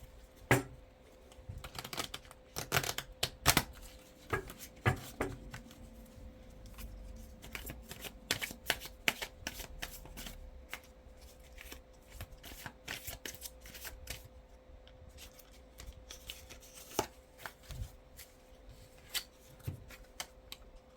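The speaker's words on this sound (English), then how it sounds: "I'm just going to pull one more card for you that's kind of a short and sweet oracle card" An oracle card deck is shuffled and cards are drawn, with quick, crisp, papery riffles and snaps coming in close, irregular bursts. The sound is quiet and there is no talking.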